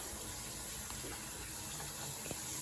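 Hot water runs steadily from a bathroom tap during pipe work, a faint, even hiss and gush with no pauses and no talking.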